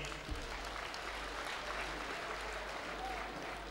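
An audience applauds at a Quran recitation competition in Rwanda, with steady dense clapping from a crowd throughout and a slight murmur of voices.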